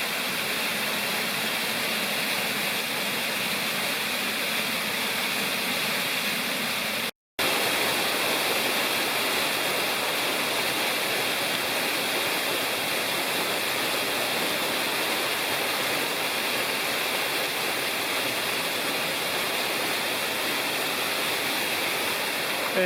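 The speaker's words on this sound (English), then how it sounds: "there's Upper Ball River Falls" Upper Bald River Falls, also called Alexander Falls, in the Upper Bald River Wilderness roars steadily and loudly without a break, apart from one momentary dropout, with no voices over it.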